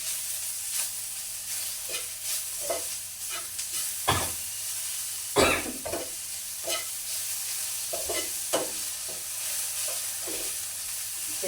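Okra stir-frying in a pan with chili powder, a constant bright sizzle broken by repeated scraping strokes of a spoon as the mixture is tossed, close and steady throughout.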